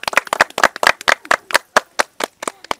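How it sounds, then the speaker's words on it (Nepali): An audience claps to honour donors at a Nepali community event for building an arts hall, a quick run of sharp, close hand claps with no talk over them. "एकचोटि जोरदार ताली साथ सम्मान गर्न चाहन्छौँ"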